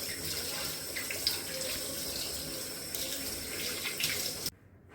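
Tap water runs steadily into a kitchen sink while 1.25 kg of chicken is washed, a close continuous splashing hiss that cuts off abruptly near the end.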